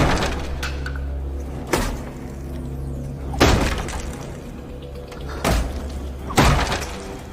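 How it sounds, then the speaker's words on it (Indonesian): A dormitory door in a horror film is hammered and forced open with a series of loud, heavy crashing impacts spaced a second or two apart, each splintering blow ringing over a low rumbling background. "gedoran dan dobrakan yang sangat keras tersebut membuat sebuah lubang pada pintu"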